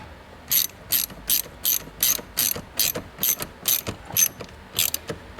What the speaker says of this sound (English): using your 8mm socket, go ahead and tighten those